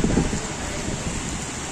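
Heavy rain falls outside in Riyadh, Saudi Arabia, a broad, dense roar that stays steady and close through the short stretch.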